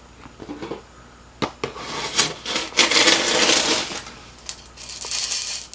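Plastic capsules scooped up in a prize-scoop machine, a burst of clattering, rattling plastic with sharp clicks and a sustained rustling pile-up in the middle, fairly close with no talk.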